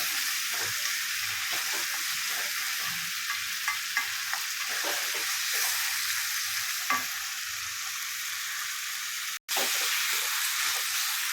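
Prawns sizzle and fry steadily in a pan for a Tamil home-style prawn thokku, a constant close hiss with occasional stirring clatter and one brief cut near the end.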